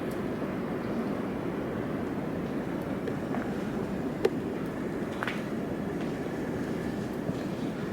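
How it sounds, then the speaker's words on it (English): A steady, broad roar of distant highway traffic near Florence, Oregon, heard from a wooded trail, fills the scene without pause, a constant far-off rumble with no voices. "I can hear the highway up ahead."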